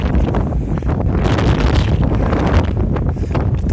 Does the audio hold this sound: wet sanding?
no